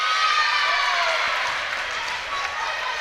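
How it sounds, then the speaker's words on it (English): A large crowd at an Isle of Man versus Emirates netball match cheers and claps in a steady, dense roar that fills the hall and fades a little toward the end, with no voices standing out. "Big crowd in here today supporting the Isle of Man."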